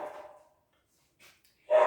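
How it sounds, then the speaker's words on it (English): A pet dog barks twice indoors, a short bark trailing off, then after a pause a sharper, louder bark close by, with silence between. "sorry about my dog"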